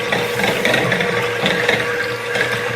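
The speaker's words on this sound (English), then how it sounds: "She'll start whisking that so it gets a little thicker." A homemade ice cream mixture is whisked in a continuous, close, clattering mechanical churn with a rhythmic, ratchet-like texture.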